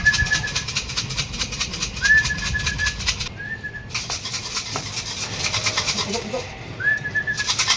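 Pigeons at a racing club training session coo softly in a steady stream, with a recurring whistle-like tone and faint wing flutters in the background.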